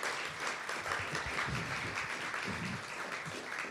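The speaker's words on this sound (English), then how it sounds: "Round of applause, please" Steady audience applause fills a high school senior awards ceremony, a sustained, even wash of clapping heard alone without speech.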